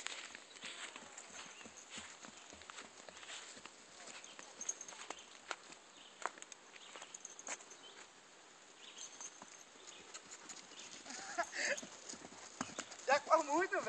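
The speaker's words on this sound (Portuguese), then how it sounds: "Esse cavalo é doido, praticamente nunca foi manso, não." A ridden horse walks with steady clip-clopping hooves, the hoofbeats fairly close and repeating in an even rhythm, with outdoor background noise and voices talking over parts of it.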